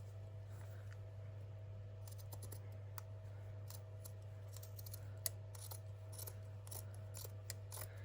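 Quiet snipping of scissors cutting paper for a junk journal, irregular clusters of small crisp cuts over a steady low hum, close and faint.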